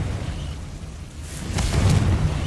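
A Confringo blasting spell detonates in Hogwarts Legacy, a muffled low rumble swelling into a sharp burst with crackling debris, fairly close and loud.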